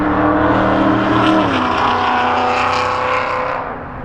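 A Dodge Charger revs loudly and close, its engine tone dropping as it drives past and fades slightly away.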